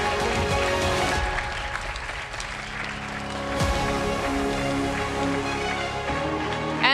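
Sustained applause from a large audience fills the hall at the EUCYS 2024 opening ceremony as countries are announced, a steady dense clapping that carries on throughout without a break.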